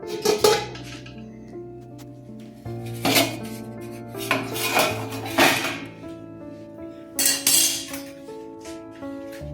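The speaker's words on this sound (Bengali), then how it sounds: "পালং শাকগুলো তুলে নিচ্ছি" Boiled spinach being lifted out of a cooking pot, heard as several loud metallic clanks and clatters of a utensil against the pot, spaced irregularly with quieter handling in between.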